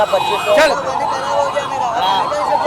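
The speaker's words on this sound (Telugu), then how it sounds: "అంబులెన్స్ అన్నా" An ambulance siren wails in rising and falling sweeps, fairly close and loud, over traffic noise near a petrol station.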